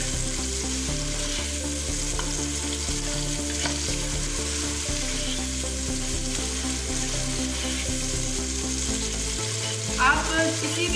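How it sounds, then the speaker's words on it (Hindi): Onions sauté in a hot pan with a steady, close sizzle and occasional stirring scrapes. Soft music plays underneath throughout. "हल्का सा सौते कर लेंगे"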